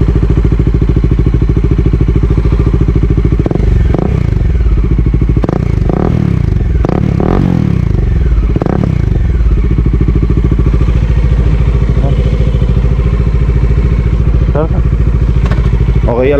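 A Bajaj Dominar 400 motorcycle engine runs loud and close with a steady low throb, while someone talks over it and scattered clatter and thumps come through.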